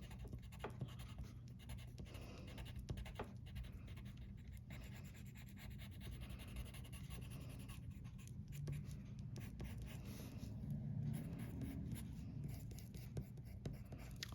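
Brown pencil crayon colouring a tractor tyre on a birthday card, a soft continuous scratchy scribbling heard close up over steady faint background hiss.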